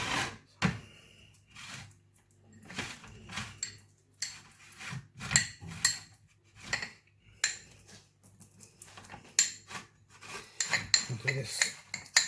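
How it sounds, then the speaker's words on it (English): A metal spoon scrapes and taps against a dish while spreading stuffing for a Sunday roast pheasant, a run of irregular clinks and rasping strokes close by with quiet gaps between. "Use the back of the spoon just to spread it out."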